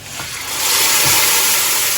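Fried tempering poured into tamarind juice, a loud steady sizzling hiss that swells after a moment and holds, with a faint voice underneath.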